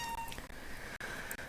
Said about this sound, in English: My cat is very needy right now.